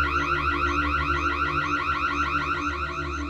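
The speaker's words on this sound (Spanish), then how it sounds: "La alarma de la entrada se encendió." A house entrance alarm wails continuously in a rapid warbling pattern, loud and steady, with no voices.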